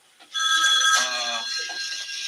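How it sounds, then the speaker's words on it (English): A telephone rings close by, a bright electronic warble with steady tones lasting about two seconds, heard on its own with no talking over it. "Phone's ringing."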